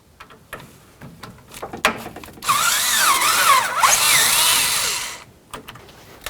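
Power tool loosening a radiator hose clamp on a 2007-or-later Toyota Tundra, a loud whirring burst of about three seconds with wavering pitch, preceded by a few sharp clicks and clanks of handling.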